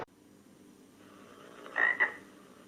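Two short frog croaks from a film shown during a biology lesson on frog metamorphosis, arriving in a quick pair near the end after a faint, quiet stretch.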